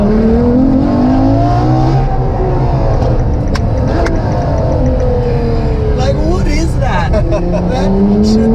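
A Ferrari LaFerrari engine drones and shifts pitch while rally driving over loose gravel, with small stones spraying and rattling against the car; the cabin sound is loud and close, and the occupants speak over it.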